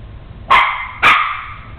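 A puppy gives two short, sharp yips about half a second apart, close and loud against a quiet room.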